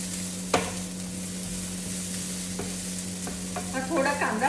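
Onion frying in a pan for vegetable korma, a steady close sizzle with a few scraping stirs of a spoon, and a busier burst of stirring near the end.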